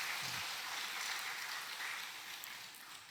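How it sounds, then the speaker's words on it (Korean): A church congregation applauds the choir at a Sunday worship service, a soft, dense patter of clapping that holds steady and slowly fades over a few seconds. "우리 다 같이 박수로 한번 격려하겠습니다"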